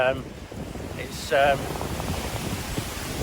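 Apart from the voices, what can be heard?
strong wind on a hillside, wind noise on microphone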